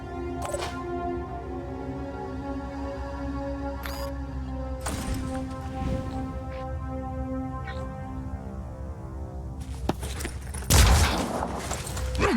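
Gunfire rings out from a heavy soldier's weapon in the video game Phoenix Point, with several sharp, loud shots spread across a steady background hum and a bigger blast near the end, and no talk.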